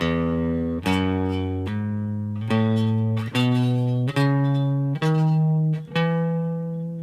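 A guitar plays a major scale, eight notes one at a time, climbing steadily upward in pitch, each plucked note ringing briefly before the next.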